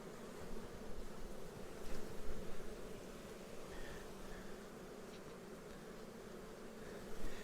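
Carniolan honey bees swarm at an open hive during a frame inspection, their dense buzzing a continuous close drone that swells and eases slightly as individual bees pass near, with no talk over it.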